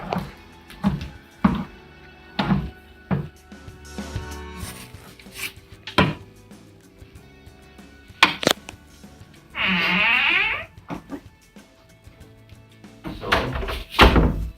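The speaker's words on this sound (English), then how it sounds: "first impressions is the door is quite heavy" A heavy hotel room door at the Future Inn in Plymouth is opened and shut, giving a series of sharp thuds and latch clunks spread across the moment, with a brief scraping squeal partway through, fairly close.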